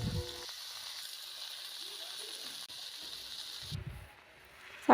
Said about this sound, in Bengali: এবার দিয়ে দেবো কেটে ধুয়ে রাখা শাক।